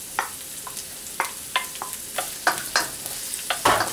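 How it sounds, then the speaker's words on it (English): Garlic and onion stir-fried in a wok for pancit canton, with repeated scraping, clacking stirs over a steady close sizzle, loud and without speech. "Add the rest of the onion into the wok as you see here."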